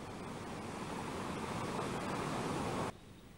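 Heavy surf from high waves up to six meters pounding a beach and seawall on the southern coast of Sukabumi, a loud, continuous broadband roar that cuts off abruptly near the end, with no voices.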